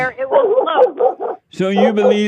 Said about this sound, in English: is that a real dog barking?